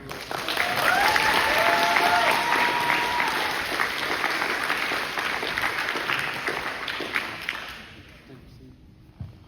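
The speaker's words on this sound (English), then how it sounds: "Round of applause again." Sustained applause from a dinner gathering fills the room loudly for several seconds, then gradually fades out near the end.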